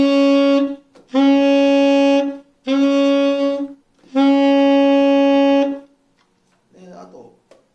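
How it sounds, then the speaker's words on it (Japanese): Four sustained alto saxophone notes, loud and close, alternating between normally fingered notes and overtones, plain and brighter timbres, then brief speech at the end. "交互に、普通の指で出した音とオーバートーンで出した音と交互に出してます。"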